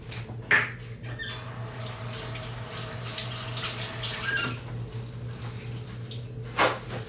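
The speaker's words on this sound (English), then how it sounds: "Let's wash our hands." Tap water runs steadily into a kitchen sink during handwashing, a continuous moderate wash with a couple of brief louder splashes and clinks, no talk.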